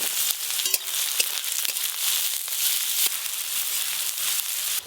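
Garlic and onion fry in hot oil with a steady, bright sizzle, broken by a few sharp pops and clicks.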